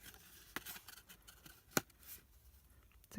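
Scissors snip through the creased top flaps of a small paper Easter egg box, giving a few sharp, isolated cuts spread across a quiet, close background.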